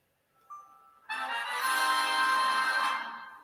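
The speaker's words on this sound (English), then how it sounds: "That was my phone. I got an email." Phone email notification chime: a faint short tone, then a brighter sustained electronic chime lasting about two seconds before fading, heard alone.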